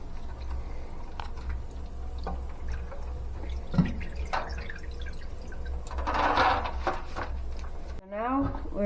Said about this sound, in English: my turkey here has been in the brine for about 7 hours. I'm going to take it out and do that right now.